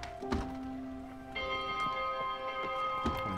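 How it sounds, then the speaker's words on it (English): A bell struck in the video game Spiritfarer, with a soft low chime first and then a brighter, sustained ringing tone that rings on alone for a few seconds. "Let's ring the bell."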